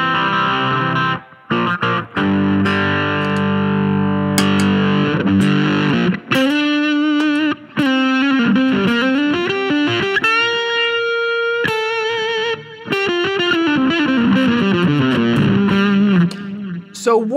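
Electric guitar played through a silicon fuzz pedal voiced with rolled-off bass and less woofiness, loud and up close, opening with held chords and moving into a sustained, singing single-note melodic line.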